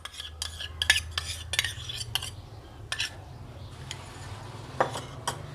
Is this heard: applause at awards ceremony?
no